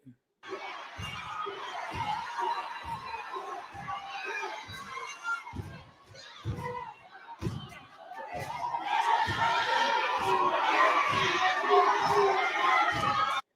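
A crowd cheers and shouts in a dense wash of voices over a steady thumping beat, building louder toward the end.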